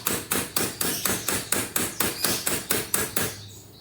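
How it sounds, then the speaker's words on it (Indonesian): A nail is hammered into the rear gear of a child's bicycle in a quick, even run of about eleven sharp metallic blows, close and clear, before stopping. "Jangan lupa kita kencangkan pakai paku lagi"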